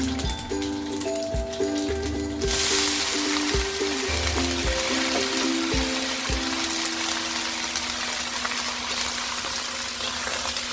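Vegetables hit a hot pan of fragrant aromatics while cooking a Hong Kong-style kuluyuk dish. After a couple of seconds of low background tones and thumps, a loud, dense, continuous sizzle takes over and holds steady, close up.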